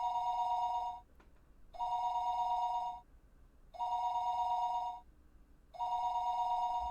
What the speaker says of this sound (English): Her phone would be ringing constantly